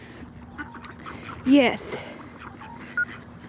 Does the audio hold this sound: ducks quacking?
yes